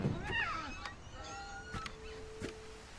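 A cat in the video game What Remains of Edith Finch lets out a couple of meows amid soft tonal game sounds and brief clicks, fairly quiet and close.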